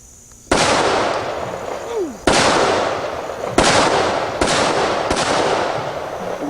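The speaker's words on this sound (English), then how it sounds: "Take a couple shots with it." Five loud, close pistol shots from an AMT AutoMag .50 AE fire at uneven intervals, each a sharp blast with a long outdoor decay ringing into the next.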